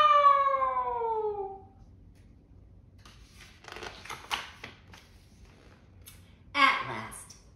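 A human voice imitates a cat with one drawn-out, falling meow up close, followed by quiet rustling and faint clicking.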